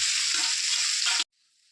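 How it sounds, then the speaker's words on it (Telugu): Boiled bitter gourd pieces sizzle loudly in hot oil in a home kitchen pan, a steady, close crackling hiss that cuts off abruptly near the end, leaving a faint residual hiss. "సేమ్ అదే ఆయిల్లోని మనము కాకరకాయ ఆల్రెడీ బాయిల్ చేసుకున్నాం కదా, అది వేసుకుందాం."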